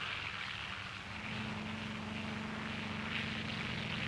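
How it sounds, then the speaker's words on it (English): Aircraft over anchored ships during the 1946 Operation Crossroads atomic tests drone steadily overhead, a continuous propeller-engine hum with a faint buzzing tone, distant and unbroken throughout. "scores of other aircraft are taking their prearranged positions in the sky above the anchored ships"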